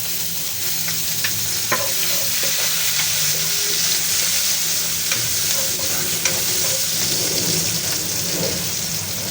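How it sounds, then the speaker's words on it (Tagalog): Garlic sautés in a pan with a loud, continuous sizzle and crackle, broken by occasional utensil scrapes and stirs, close and without talk. "magigisa na tayo ng ating bawang"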